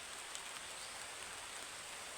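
Steady rain hisses evenly, a soft continuous patter of drops on surfaces, fairly quiet and without other sounds.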